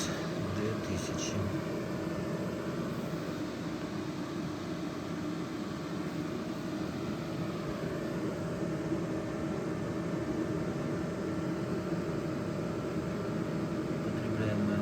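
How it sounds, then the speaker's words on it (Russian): An electric kettle heats water toward a boil while an EcoFlow Delta Max 2000 power station runs, giving a steady broadband rush and hum that holds evenly throughout, with a faint fan-like drone underneath. "И чайник шумит, и станция тоже шумит."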